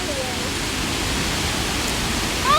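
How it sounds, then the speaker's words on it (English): A weak waterfall pours in a steady broadband wash of rushing water that fills the whole stretch, with a faint whistle-like tone near the end. "Oh my god, this waterfall is weak."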